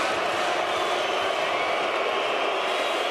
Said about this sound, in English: Jolnikov hearing it from this Helsinki crowd at Hartwall Arena